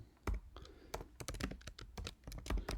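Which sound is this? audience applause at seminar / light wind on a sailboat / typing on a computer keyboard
typing on a computer keyboard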